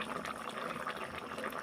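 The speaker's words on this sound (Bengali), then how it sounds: "ঝোলটা ফুটে গেছে।" Koi fish cumin gravy (jhol) simmering in a pan, giving a steady, soft bubbling hiss that stays fairly quiet and continuous throughout with no talk.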